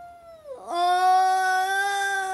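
Cats in Zelda: Twilight Princess HD give a drawn-out, tonal meow that dips and then rises into a steady, clear wail. It is close and loud, with no talk over it.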